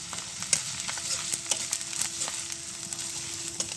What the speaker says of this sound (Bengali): হালকা একটু ভেজে নেব মশলাটা